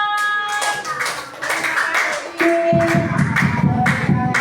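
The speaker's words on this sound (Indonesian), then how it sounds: "Tepuk tangan dong." Fifth-grade schoolchildren clap together in their classroom at SDN 01 Tebingtinggi, a burst of quick, fairly close hand claps that follows a teacher's brief talk.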